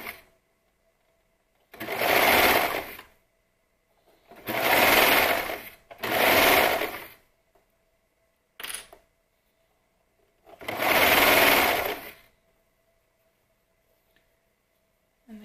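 A sewing machine stitches fabric for pajama bottoms in short motorized bursts. Four main runs of a few seconds each, plus one brief blip, are separated by quiet pauses, close and clear.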